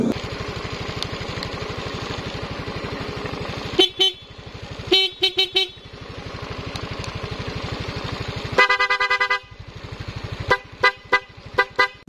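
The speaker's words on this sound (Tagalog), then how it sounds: "subukan uli natin kung maganda ang function ng stock horn at ng loud horn." Loud stock and aftermarket horns on a Yamaha Mio i 125 scooter honk in repeated bursts over an idling engine, some long blasts and some quick short toots.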